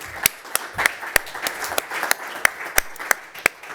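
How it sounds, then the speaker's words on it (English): Applause for panelist Yasmin Güngur at a deep tech investment panel: a modest group clapping, with several sharp, distinct claps standing out above the steady patter throughout. "A big applause for Yasmin"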